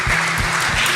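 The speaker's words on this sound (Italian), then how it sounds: "Facciamo un applauso al Signore" Congregation applauding during an evening worship service at an Assemblies of God church in Verona, a continuous broad wash of clapping for about a second with low rumble underneath.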